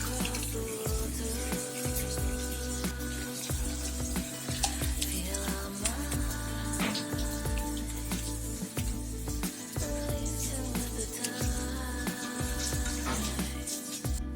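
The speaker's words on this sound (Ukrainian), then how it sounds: "Виливаємо нашу суміш на сито, вкрите марлею." Steady splashing of a ricotta cheese mixture pouring and running through a gauze-lined sieve, continuous and close, with clattering and a low hum underneath.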